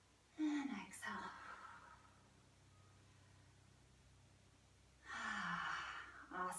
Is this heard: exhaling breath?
yes